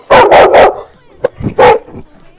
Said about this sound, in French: sur le chemin on croise un chien